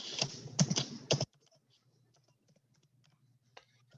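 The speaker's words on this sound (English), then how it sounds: "Just type the password." Password typed on a computer keyboard: a short cluster of close, brisk key clicks at the start, then near silence with a few faint taps.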